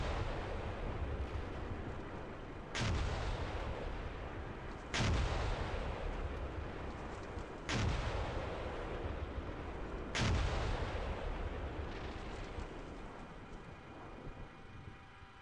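Tank main guns firing in the Steel Beasts combat game, four heavy booming shots spaced a few seconds apart, each a sharp blast with a long rumbling tail over a steady engine drone.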